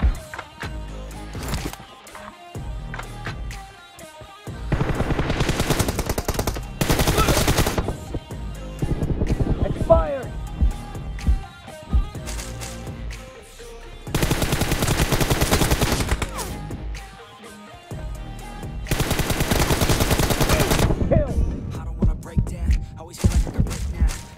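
Gunfire in the mobile battle-royale game PUBG, with bursts of automatic fire and single shots coming in loud, dense clusters separated by quieter gaps, with music and game sounds between.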